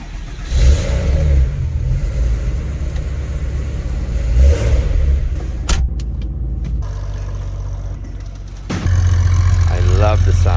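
A classic Porsche engine idles with a deep, uneven rumble up close, with a couple of revs and a louder surge near the end.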